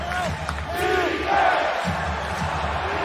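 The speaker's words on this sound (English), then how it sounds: "here comes the crowd" A basketball arena crowd at an NBA Western Conference playoff game between the Utah Jazz and Memphis Grizzlies swells into loud cheering and whoops, rising to a roar under a commentator's voice.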